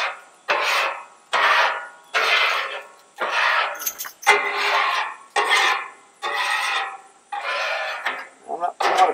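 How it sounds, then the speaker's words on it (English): A metal scraper dragged across a Blackstone griddle surface in about ten regular strokes, each a close, gritty rasp with short gaps between them, and no talking. "I'm not putting a lot of pressure when I scrape"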